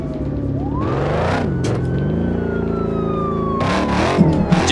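A police car siren in the driving game BeamNG Drive wails with slow rising and falling tones over a loud, close revving car engine, without speech.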